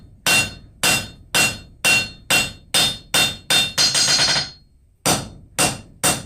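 A hammer strikes forged railroad spike tongs on an anvil to flatten the reins, ringing clanks repeating about twice a second, close and loud, with a quick flurry of rapid blows in the middle and a short pause before three more strikes.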